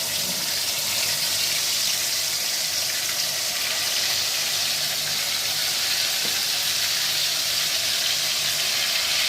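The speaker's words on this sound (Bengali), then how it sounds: "এবার তেলের মধ্যে আমি এক এক করে ছানার বলগুলো দিয়ে দিলাম।" Chhana balls for kofta curry dropped into hot white oil, a dense continuous hiss and bubbling of deep frying that stays loud and even throughout, with no voices.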